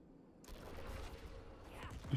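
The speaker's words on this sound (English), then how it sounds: "Hearing those explosions." Gunfire and explosions in a dark-fantasy loot-grind action game, a steady rumbling barrage of shots and blasts with a louder burst near the end, played over continuous game background.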